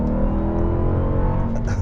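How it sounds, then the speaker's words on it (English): 2021 Dodge Durango SRT Hellcat AWD, a 710 hp three-row SUV, growls steadily from inside the cabin, a low continuous engine rumble with faint road noise and no voices. "you can definitely hear that engine on the inside"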